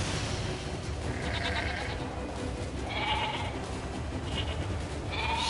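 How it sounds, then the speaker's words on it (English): Sheep bleat in the video game Nier Replicant, several short cries repeating over a muffled game backdrop at moderate volume, with no voices over them. "Sheep rampage!"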